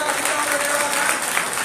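A church congregation in a village bursts into applause, a dense, even wash of many hands clapping at once, loud and continuous for a brief moment.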